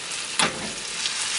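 Caramel sizzling in a pan off the heat as banana, pineapple and peach are added, a steady close hiss and crackle with one brief louder spit.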